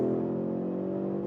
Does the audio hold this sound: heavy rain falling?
no